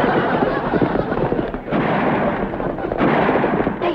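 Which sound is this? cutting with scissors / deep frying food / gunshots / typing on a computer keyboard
gunshots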